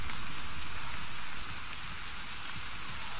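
Steady rain pours down in the military video game Arma 3 (Apex), a dense, even hiss that drops slightly in loudness partway through, with no voices.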